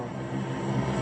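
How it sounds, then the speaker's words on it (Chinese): A transport plane drones in the PUBG video game, a steady low engine hum throughout a brief moment with no voices over it. "哇，飞机飞这么快！"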